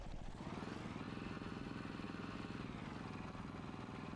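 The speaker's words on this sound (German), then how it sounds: "Der Motor hört sich aber auch nicht mehr gesund an." A rough, rumbling tank engine drones steadily throughout, loud and close, with a sputtering, uneven quality and a faint clatter underneath, on a Vickers Mk. E Type B in the video game World of Tanks.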